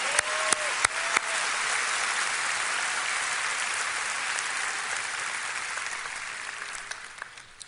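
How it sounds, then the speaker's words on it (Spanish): Church congregation at Lakewood applauds a member's birthday, a broad, steady wash of clapping rising quickly and holding for several seconds before tapering, with a few sharp claps up close. "Un aplauso."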